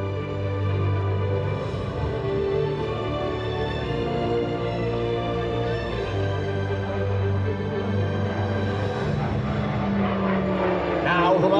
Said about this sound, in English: the aircraft will complete the second half of the reverse Cuban 8.